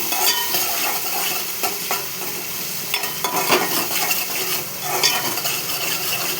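Curry frying in a pan while being stirred, a continuous sizzle broken by repeated scraping and clinking of a utensil against the pan, close and fairly loud, no talking.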